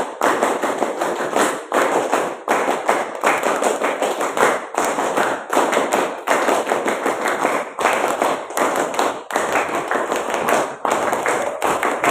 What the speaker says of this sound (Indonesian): Tepuk tangan 7 kali.